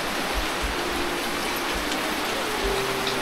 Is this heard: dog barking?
no